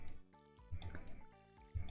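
Watering crops with a watering can in a farming game, producing quiet, repeated liquid splashes and drips in short bursts against faint background music, with no talking.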